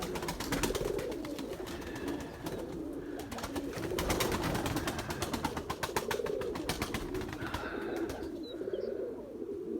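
Several pigeons coo in low, rolling, repeated calls close by, overlapping throughout amid light rustling and clatter from the loft.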